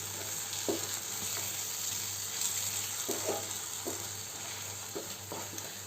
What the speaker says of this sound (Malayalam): നമുക്ക് മുട്ടയുമായിട്ട് ഇതിനെ നന്നായിട്ട് ഇളക്കി യോജിപ്പിച്ച് കൊടുക്കാം